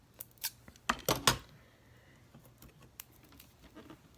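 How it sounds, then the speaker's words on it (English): Small scissors make a few quick, close snips while trimming extra paper from a handmade name box, followed by faint light handling noises. "This has a little extra, so I'm just going to snip that on off."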